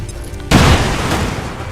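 A grenade blast in XCOM 2: War of the Chosen, thrown into an enemy's corner: a single sudden, loud boom after a quiet half second, followed by a rumbling decay.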